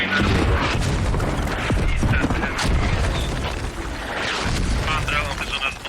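Mortar shells pound a position in a tank battle video game, heavy booms and rumbling blasts rolling one after another beneath constant mechanical noise.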